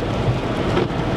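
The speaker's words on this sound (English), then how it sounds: "And it's super raining out today." Heavy rain pours outdoors as a dense, steady roar with no pauses and no voices, loud and continuous across the moment.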